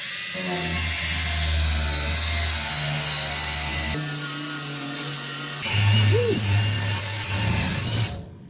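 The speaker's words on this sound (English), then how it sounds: "I'm just gonna hit it with this Scotch-Brite, show you kind of how it works" A 20V cordless polisher/sander fitted with a Scotch-Brite pad runs against a stainless steel workbench, a steady, loud motorized whir that drops and shifts in pitch as the pad presses and lifts, with no talking.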